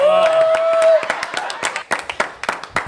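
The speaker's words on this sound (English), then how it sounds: "Let's get a clap." A small group claps in a quick burst of scattered handclaps for a student ambassador introduced as a guest, following a voice, the sharp claps fading out over a couple of seconds.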